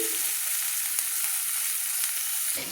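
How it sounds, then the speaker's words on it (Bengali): Onions frying in oil in a pan on the stove, a steady close sizzle that holds through the short stretch with a few faint stirring ticks. "আমি লাল লাল করে পেঁয়াজগুলো ভেজে নিচ্ছি"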